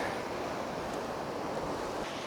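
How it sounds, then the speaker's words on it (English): Ocean waves of a fast incoming tide washing up a beach at sunset, a continuous broad roar of surf with gusty wind noise on the microphone and no voices. "This tide's coming in so fast."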